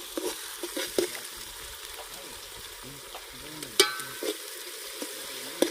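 Masala paste sizzling in a hot pan outdoors in a village kitchen, frying steadily with scattered crackles and a few stirring scrapes, close and fairly quiet, with no voices.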